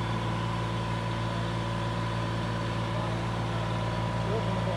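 Kubota L2501 tractor engine running under dyno load, a steady low droning rumble with constant tone, loud and continuous, with people talking over it.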